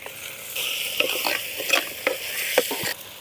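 Mutton bones go into a hot pan for a soup and fry with a crisp sizzle, while a spoon scrapes and stirs in short, irregular strokes, close by and moderately loud, with no talking.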